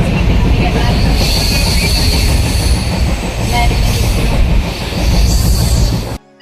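A train rumbles loudly close by at Varkala railway station in Kerala, wheels clattering and squealing on the rails, before the sound cuts off abruptly.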